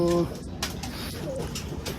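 Pigeons coo softly near a pigeon loft, low rolling calls repeating over a murmur of background voices and activity.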